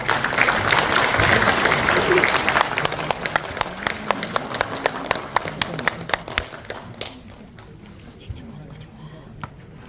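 An audience applauds at a political party New Year forum in Korea, loud at first and then thinning into scattered claps that fade out, while people speak underneath.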